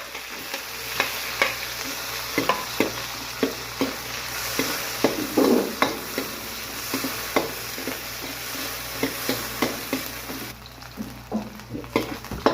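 Garlic and onion sauté in hot oil with a continuous crackling sizzle, broken by a regular series of spatula scrapes and taps against the pan, with a brief splash of water midway, no talking.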